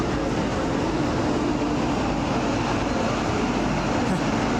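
An Indian Railways train pulls into a station near a metro stop, a steady loud broadband rumble of rolling wagons running throughout without pause.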